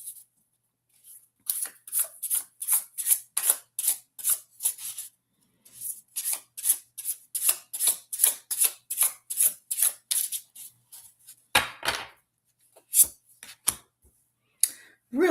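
Rapid riffling bursts of cards being shuffled up close, repeated in quick rhythmic runs with brief pauses between them.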